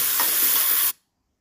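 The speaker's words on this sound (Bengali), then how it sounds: "পেঁয়াজটা দিয়ে নেড়ে চেড়ে" Chopped onion frying in oil with whole spices, a close, steady hiss and sizzle that lasts under a second and then cuts off into silence.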